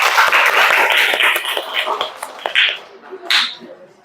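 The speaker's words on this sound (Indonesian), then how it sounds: "Tepuk tangan bagi kita semua." A classroom of counseling students in Indonesia breaks into dense, loud applause that rattles on for about two seconds, then thins into scattered claps with a couple of short bursts.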